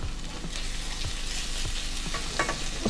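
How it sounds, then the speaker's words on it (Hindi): Food frying in ghee for a murgh musallam, stirred steadily: a continuous close sizzle with a scraping stir stroke roughly every half second, and no voices. "अब हम 2 से 3 मिनट इसको घी में फ्राई करेंगे।"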